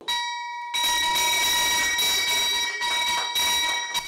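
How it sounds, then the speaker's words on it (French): A bell marks the first listing at the BRVM stock exchange, ringing loudly and continuously with a steady metallic tone after a brief quiet start. "La cloche de la première cotation a retenti ce matin au plateau au siège de la BRVM"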